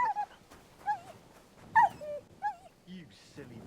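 Mutt, a dog in the video game Kingdom Come Deliverance 2, whimpers and whines in repeated short, high cries, close and fairly soft, with a few low grumbles in between.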